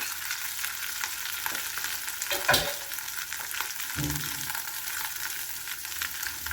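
Butter melting in a hot frying pan gives a soft, steady sizzle with a few scrapes and clatters of a utensil against the pan, close but fairly quiet.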